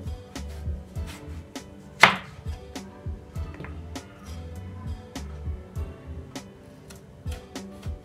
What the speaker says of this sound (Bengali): ফ্রেঞ্চ ফ্রাই যেরকম থাকে একটু মোটা মোটা করে কেটে নিতে হবে